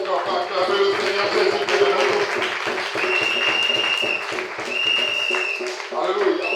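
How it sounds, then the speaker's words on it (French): A church congregation claps and cheers in praise, with rhythmic clapping running steadily under raised voices and some tonal sounds, loud and continuous. "Est-ce qu'on peut acclamer le Seigneur?"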